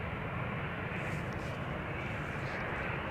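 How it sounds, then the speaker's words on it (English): A KLM Cityhopper Embraer 190 airliner, about eighteen years old, heads out at Amsterdam Schiphol bound for Humberside, giving a continuous moderate engine rumble and hiss with no voices. "This is a Britty Hopper flying on behalf of KLM. Going to Humberside. Embraer 190."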